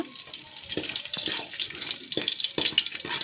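Mustard seeds and curry leaves frying in oil in a pan, a soft hiss with quick, sharp crackles and pops scattered irregularly through it, close by.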